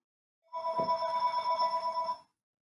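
A phone ringtone goes off during a presentation, a bright electronic chime tone sounding steadily for under two seconds, then cutting off abruptly.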